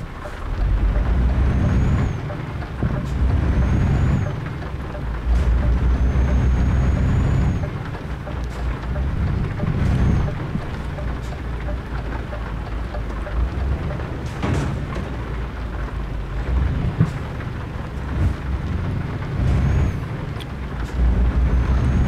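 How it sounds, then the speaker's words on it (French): Steady rain with rolling rumbles of thunder and low crashes in Euro Truck Simulator, continuous and fairly loud throughout, no voices. "Ah merde, il pleut."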